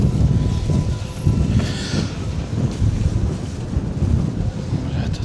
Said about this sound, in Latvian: Tāds nenormāls vējš te.